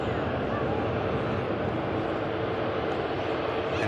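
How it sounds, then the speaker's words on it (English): A Virgin Atlantic A350 airliner takes off as a steady, broad jet roar, fairly loud and distant, filling the whole stretch with no breaks. "Majestic takeoff from the beautiful Virgin 350"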